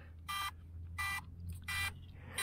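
A crashed DJI Mavic Mini drone gives three short, harsh electronic beeps at a regular interval, buzzy and moderately loud, over a low steady hum.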